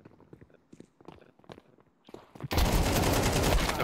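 Video game gunfire from the player's own weapon: scattered footsteps and small clicks, then a sudden dense, loud stream of rapid shots that continues to the end.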